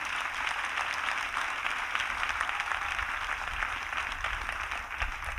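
Steady, distant applause from a crowd at an outdoor Bible camp sermon, a continuous wash of clapping with no voices over it.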